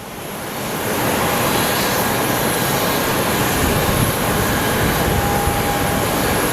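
A jet aircraft at Phoenix Sky Harbor builds into a loud, continuous engine roar after a quieter first second, then holds steady and close with no talking.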